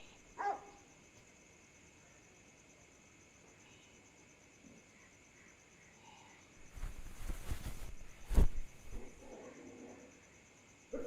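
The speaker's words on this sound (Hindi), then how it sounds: "तुम्हारे यहाँ के कुत्ते भी ना, मतलब जाड़े में आराम नहीं कर सकते, काटने को दौड़ते रहते हैं हर समय।" A dog barks and rushes in a short, loud burst midway, over a steady chirp of crickets and insects, with a few quieter knocks before and after.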